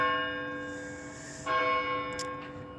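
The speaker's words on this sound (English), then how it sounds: "There's the 5 o'clock courthouse bell." A courthouse bell tolls at five o'clock, one sustained ringing strike decaying, then a second strike around the midpoint with its metallic hum lingering outdoors.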